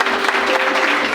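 Brief burst of congregation applause in a church service, dense loud clapping throughout with a faint voice under it.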